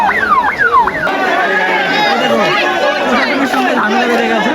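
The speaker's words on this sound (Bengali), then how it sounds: "দেখো অ্যাম্বুলেন্স ঢুকেছে।" An ambulance siren wails in rising and falling sweeps on a crowded road on the way to Tarakeshwar, with dense crowd chatter and voices around it.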